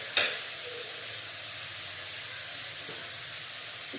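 Poori curry fries in a pan with a steady close sizzle and hiss, opening with a brief clatter, no talking.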